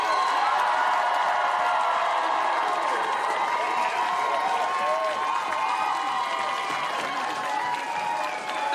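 Frustrated town hall crowd facing Republican Harriet Hageman, a dense, steady roar of many voices with scattered clapping and cheering, loud and sustained throughout.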